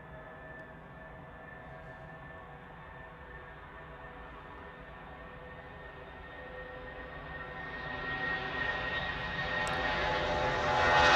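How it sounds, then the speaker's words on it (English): A 32-year-old Boeing 757 with Rolls-Royce RB211 engines departs Manchester, its steady broadband engine roar building louder toward the end as the jet spools up and rolls, with no voices over it. "757 departure now. This is GLSAC, GLSAC, 32-year-old Boeing 757, and it's off to Fuerteventura."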